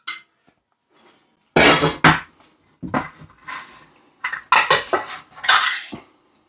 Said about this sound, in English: Just going to drain the potatoes.